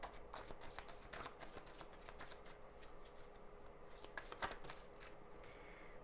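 Tarot cards being shuffled by hand, a steady run of soft papery riffles and flicks with a few sharper snaps, close and quiet, with no talking.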